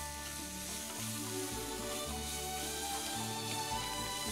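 Chicken masala frying and being stirred in a pan, a steady sizzling hiss with soft scraping of the stir, over a low droning background.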